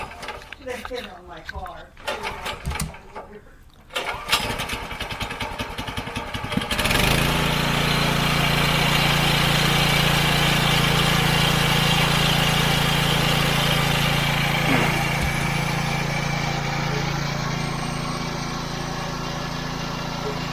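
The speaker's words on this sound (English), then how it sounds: "the lawnmower engine is turning the go-kart torque converter" A lawn mower engine driving a go-kart torque converter on an old forklift sputters and pulls, then catches and roars steadily, loud and close, holding a constant drone for a long stretch with slight variations.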